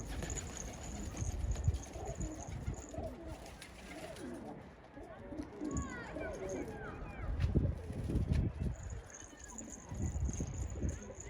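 Pet pigeons coo softly on a rooftop loft, a steady low murmur of calls with rustling and faint background voices throughout.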